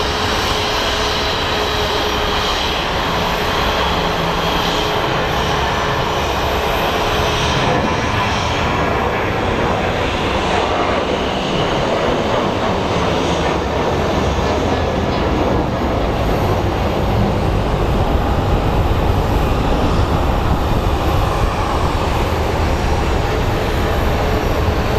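American Airlines jet bound for Minneapolis on its takeoff roll at Phoenix Sky Harbor, a loud continuous engine roar filling the whole stretch with broad rumble and steady whine, close and building slightly toward the end.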